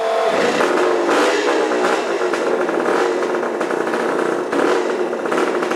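Motorcycle engine firing up when released in fourth gear with the clutch in on a Perry roller starter, then revving loudly and raggedly close by for several seconds with no talking.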